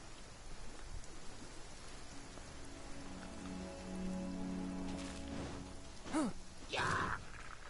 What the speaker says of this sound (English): Rain is perfect for Chongyun.